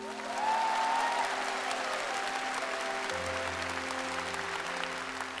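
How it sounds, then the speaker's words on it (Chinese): Studio audience at a televised Chinese singing competition applauds a female challenger: steady, full-room clapping throughout, with a sustained musical tone underneath and a low hum joining later. "再次把掌声送给我们挑战者单晶妮"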